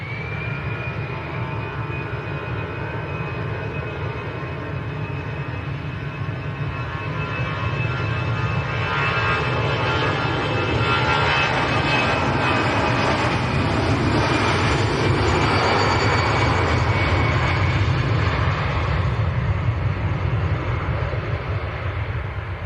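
An easyJet Airbus A320 at Manchester Airport begins its takeoff roll, a high engine whine over a broad rumble that grows steadily louder and fuller as thrust builds.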